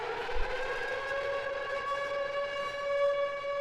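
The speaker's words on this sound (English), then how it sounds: "and I loop it over here to extend the siren" A sustained, wailing siren tone with steady harmonics, drenched in long reverb with an 11-second decay, looped to extend it, and holding at a constant loudness throughout.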